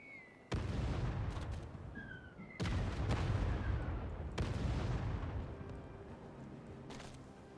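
Three heavy explosive blasts land in turn as a tank is ground-attacked in Civilization VII, each striking hard and then rumbling away. Game music plays underneath and the last blast fades toward the end.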